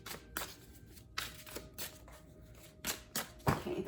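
Tarot cards being shuffled close up, with repeated soft riffling bursts separated by brief pauses and no talking.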